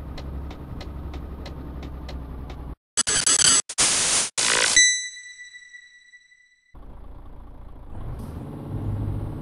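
A heavy truck in the Euro Truck Simulator 2 driving game: a low engine rumble at the start and end, broken up by several loud bursts of air hiss and a ringing chime, then a brief silence.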